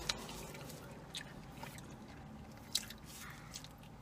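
Someone quietly chewing a bite of peach pizza with no sauce, soft wet squishy mouth sounds and a couple of brief bites, close and faint, with no talking.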